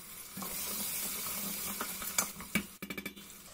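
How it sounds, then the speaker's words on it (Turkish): Shallots and carrots sizzle steadily in a pot, with a constant close frying hiss and a few sharp stirring clinks and scrapes toward the end. "Havuçlar biraz yumuşayıp rengini bırakana kadar pişiriyorum."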